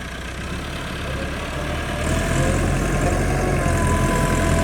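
A Massey Ferguson tractor running with a rotavator, a close, steady low diesel drone that grows slightly louder and fuller partway through, with no voices.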